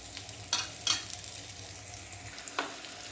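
Oil crackles and sizzles steadily in a pan as mustard seeds, curry leaves and cumin temper, with a few sharper spitting bursts and light stirring scrapes; no voices.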